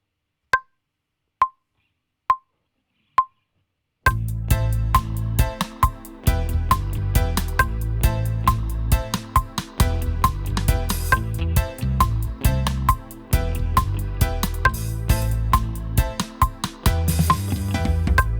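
Four sharp count-in clicks open a reggae beat built in Logic Pro X, which then kicks in loudly with drums, bass and choppy guitar playing steadily to the end, with no voices.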